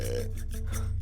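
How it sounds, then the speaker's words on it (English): A cow lets out a short, low, guttural burp, brief and close. "Some of the methane comes from cows' farts, but the majority is actually burped out."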